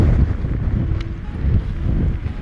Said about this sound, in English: It was a little windy up high